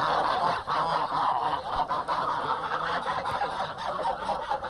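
Geese honking at a poultry farm keeping geese, ducks and chicks, a dense continuous chorus of overlapping honks and cackles from many birds close by, with no talk.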